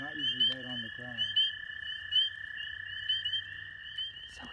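Spring peeper frogs give a constant high, piercing peep that runs unbroken throughout, with a voice talking quietly underneath early on and a few faint chirps scattered around.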